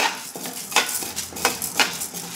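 Dried red chillies fry in a little hot oil in a pan over a low flame, giving a soft steady sizzle broken by several sharp clinks and scrapes of a utensil against the metal pan.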